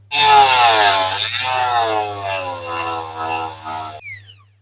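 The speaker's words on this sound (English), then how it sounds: "multi-tool with a grinding wheel is going to be the best solution" A loud, steady grinding whine from a multi-tool grinding wheel cutting a metal rivet on a diecast toy car, holding for about four seconds before cutting off abruptly.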